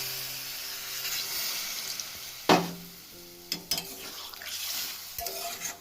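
Drumstick stem curry with water stirred in a pot, giving a steady low simmer with a few spoon scrapes and knocks against the metal near the middle and end, no voices.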